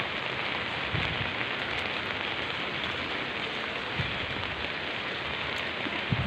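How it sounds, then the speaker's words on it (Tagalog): Steady rain falling on a surface during bad weather, a dense continuous hiss with occasional louder drops, no voices. "Ulan na po dito."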